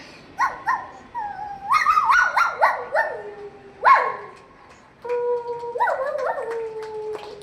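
A voice imitates a puppy with high, whiny yips and squeaky little barks, rising and falling in a few uneven bursts.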